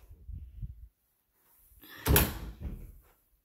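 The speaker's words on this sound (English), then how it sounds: "Closets with the double doors here." Closet double doors in a bedroom of a ranch-style house open and close: a soft muffled thud, a pause, then a sharper knock and brief rattle as the doors meet, close and fairly quiet with no voices.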